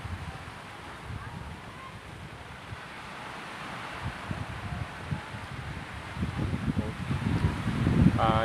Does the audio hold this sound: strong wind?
yes